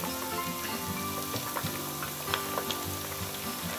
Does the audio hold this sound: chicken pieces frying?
yes